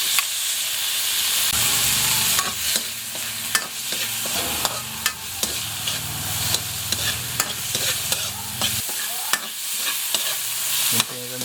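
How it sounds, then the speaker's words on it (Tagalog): Tomatoes go into a pan of softened onions sautéing for sinigang, a close, steady sizzle and hiss broken by scraping, clacking stirs of a utensil against the pan, with no talking. "Ngayon, lalagay na po natin yung kamatis."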